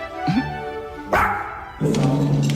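A dog barks in a Dolce & Gabbana advert for a dog fragrance mist, giving a few separate woofs over soft background music.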